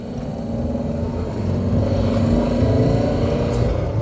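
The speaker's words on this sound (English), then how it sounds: "Oh yeah, you don't want to rev it, it doesn't sound nice at all." A Renault Kangoo van's engine drones in a low, steady rumble as it climbs a test hill, the note strengthening slightly as it pulls, heard from inside the cabin without speech.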